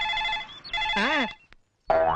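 A phone ringtone plays a bright, warbling melodic tune, close and clear, cutting off briefly before resuming.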